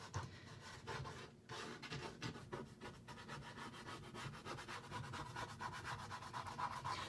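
Excess chalk paint is scraped off a sprayed surface in steady, rhythmic rasping strokes, close and fairly quiet, with no talking.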